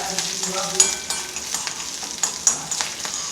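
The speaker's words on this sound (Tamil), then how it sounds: "ரெண்டே ரெண்டு கருவேப்பிலை பச்சை மிளகாய் நல்லா எண்ணெயில் பொரிஞ்சதுன்னா" Curry leaves and green chillies fry in hot oil, a steady close hiss with scattered crackles and pops throughout, punctuated by a few sharper ticks and scraping stirs.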